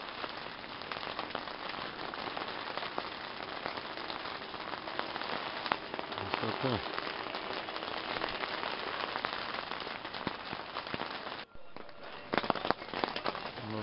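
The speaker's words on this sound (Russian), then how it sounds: "Смотрите, какой дождь идет." Steady heavy rain pours and patters on the surface just outside a GAZ 3308 truck, filling the whole stretch with dense hiss and scattered drip impacts, briefly dipping near the end, with a voice speaking faintly.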